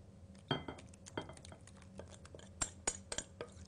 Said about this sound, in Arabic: ونخلط هالمكونات السائله مع المكونات الجافه اللي خلطناها من الاول